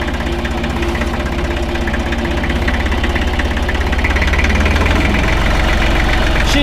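Air-cooled engine of a 1965 Deutz D 40 tractor runs steadily, a loud, close, rhythmic diesel chug with a knocking pulse and vibration throughout, no voices.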